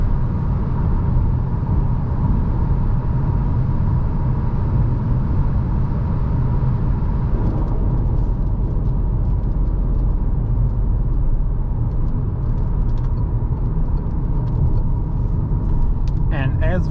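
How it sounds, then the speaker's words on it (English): Citroen C3 Shine 2021 with the PureTech 110 HP engine accelerating on a highway: a steady, loud low engine and road rumble drone heard from inside the car throughout, with no voices. "The car will accelerate"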